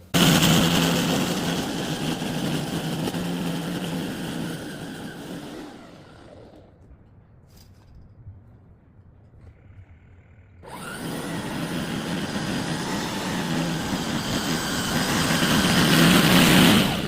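A SENIX electric dethatcher with a 13 amp motor and spring steel tines runs loud and close as a steady whirring drone, cuts out to near silence for about five seconds, then starts up again at full strength.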